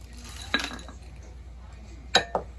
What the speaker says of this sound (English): I'm going to add some chocolate chips to it